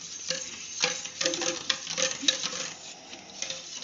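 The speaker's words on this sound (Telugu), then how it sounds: "ఇప్పుడు పెద్ద చెంచాతో కలుపుకుంటాము." A large spoon stirs sugar into milk, producing soft repeated scraping and light clinking strokes in an irregular rhythm, close and fairly quiet, with no talking.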